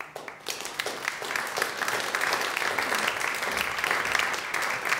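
An indoor audience at a German health lecture applauds steadily for a lecturer being welcomed to the podium; the sustained clapping is moderately loud and continues for several seconds.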